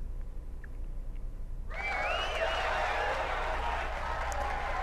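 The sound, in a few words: crowd cheering in the video game Persona 4 Arena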